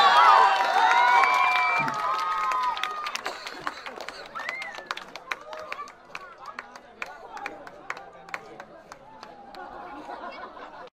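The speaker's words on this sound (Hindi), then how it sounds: "ताली बजा के स्वागत कर देबे।" An audience at a tournament closing ceremony claps in welcome, starting with crowd chatter and cheering, then thinning into scattered individual claps that fade over several seconds.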